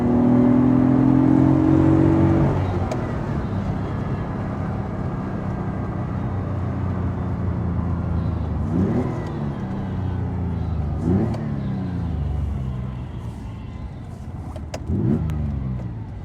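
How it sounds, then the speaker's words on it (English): A 1974 Ferrari 246 GTS Dino engine revs loudly at first, then drops to a steady drone broken by several rising rev sweeps as it passes outside, with no talk. "It's just lovely the way the engines rev."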